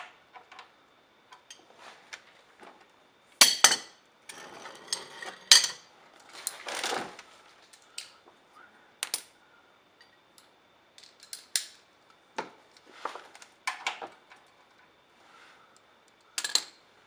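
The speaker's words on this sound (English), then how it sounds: "now that you removed your drain plug" Metallic clicks and taps from loosening and pulling the oil drain plug on a 2013 Subaru WRX during an oil change, a sparse series of sharp close ticks and scrapes with no talking.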